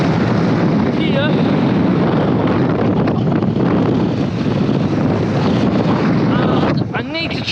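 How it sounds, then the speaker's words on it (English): Strong storm wind buffets the microphone on a wooden pier, a loud continuous roar with gusty rumble throughout, faint voices briefly audible beneath it. "The wind's coming from here."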